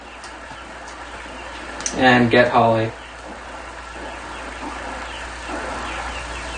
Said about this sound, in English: we're just going to get those ducks